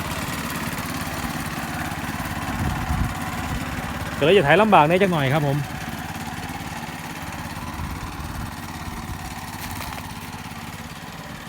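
A mini tractor ploughs furrows for cassava in a narrow trial plot, its engine making a steady, fairly faint rumble throughout while someone speaks briefly partway through.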